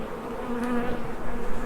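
Honeybees buzz loudly in an opened beehive, a dense close droning hum with a steady pitch that swells slightly toward the end.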